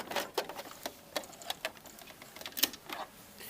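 A home sewing machine back stitching a skirt waistband: soft, quick, irregular ticking and clicking of the needle mechanism in short bursts, fairly faint and close, with no speech.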